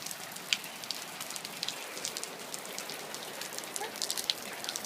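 Rain falling and pattering steadily on outdoor surfaces, a dense continuous spatter with occasional sharper drips close by.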